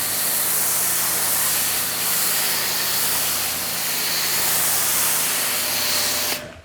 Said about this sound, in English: Let me just spray the back of the car.